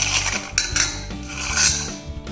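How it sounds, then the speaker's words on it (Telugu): Sugar mixture for chakkarapara snack being beaten vigorously in a metal bowl, with irregular clanking and scraping of a utensil against the vessel, loud and close, with no talking. "ఇలా బాగా బీట్ చేయండి ఒక 10 నిమిషాల పాటు."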